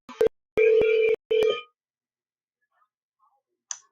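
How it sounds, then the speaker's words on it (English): A phone call placed through Google Meet sends a few short electronic dialing tones in quick succession, followed by silence and a faint high chirp at the end; close and clean, with no talking. "You'll be able to hear my phone start ringing."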